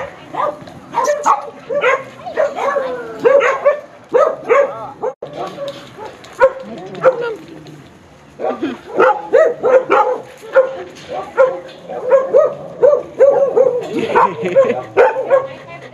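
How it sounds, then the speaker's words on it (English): Several dogs in Cyprus bark and yip repeatedly in irregular bursts across the whole stretch, fairly close and loud, with a few whimpers, as people talk now and then over the barking. "So many dogs."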